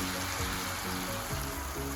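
Boiling water pours into a cooking pot for a Filipino vegetable stew in coconut milk, a steady, full rushing splash that fills the whole moment without pause.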